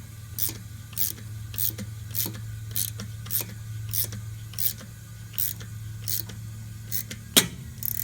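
A valve spring compressor works on a cylinder head of an engine, making a steady series of evenly spaced mechanical clicks over a low background hum, with one sharper snap near the end.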